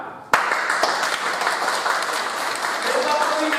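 Audience applause bursts in sharply and holds as steady, dense clapping from a crowd at a training session, continuing loud and broad with no pause after the onset.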